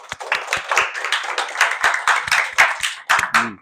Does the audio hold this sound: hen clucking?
no